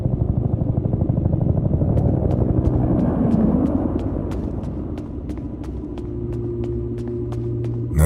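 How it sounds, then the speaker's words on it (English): In the survival game Peridium, an evac helicopter's low rumble and thudding rotor pulses build in a snowy setting, then give way to a steady mechanical hum with sharp rhythmic ticks. "Is that the evac chopper?"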